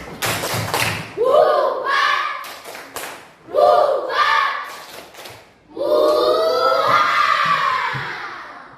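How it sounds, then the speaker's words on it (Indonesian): A class of children in a Catholic religious education lesson performs a rhythmic spirit clap, with bursts of patterned claps mixed with loud chanted shouting in three energetic rounds. "Tepuk semangat."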